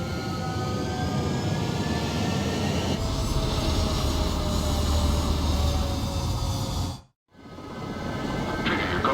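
Fighter jet taking off in the video game Ace Combat 7: a steady, loud engine roar with whining tones that builds and holds, then abruptly drops out before returning, with no voices.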